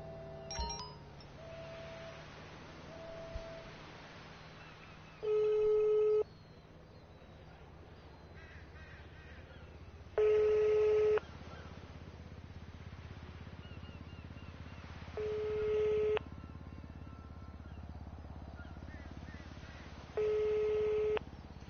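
An unanswered telephone call rings out as a series of four evenly spaced ringback tones, each about a second long, separated by roughly four-second gaps over a faint, quiet line hum.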